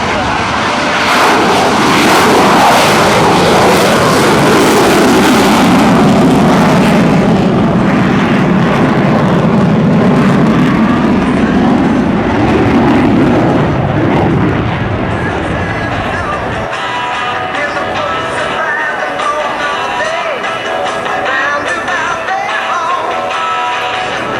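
F/A-18F Super Hornet jet taking off and rolling at a 2008 Hampton Roads air show, a loud full engine roar with a sweeping tone that fades into distant rumble, under an announcer's commentary and crowd noise.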